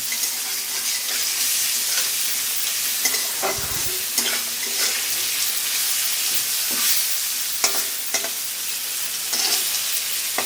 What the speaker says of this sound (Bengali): আস্তে আস্তে আলুটা কষিয়ে নেবে ভেজে নেব